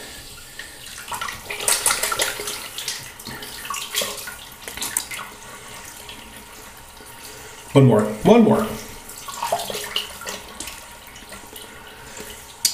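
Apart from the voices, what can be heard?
running water from a tap while shaving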